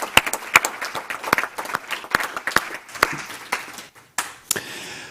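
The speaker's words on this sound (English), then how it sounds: "let's give him a big round of applause" Board meeting attendees give a round of applause, sparse and distinct claps from a small group, irregular and fairly close, thinning out toward the end.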